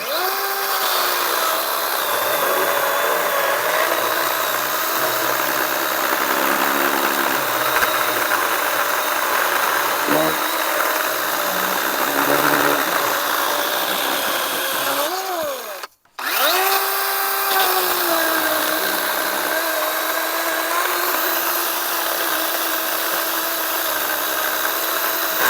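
A Makita 18V brushless 14-inch cordless chainsaw runs loud and close with a high steady motor whine, revving up and down, cutting out briefly near the middle before spinning up again, with no talking.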